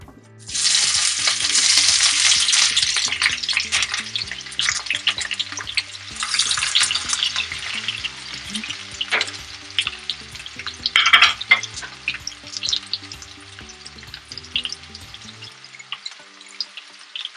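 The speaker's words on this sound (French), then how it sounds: "Là, je verse les oignons." Onions sizzling in hot oil in a saucepan, a loud bright hiss bursting up as they hit the pan, then settling into steady crackling frying with occasional stirring scrapes, with a repeating background tune.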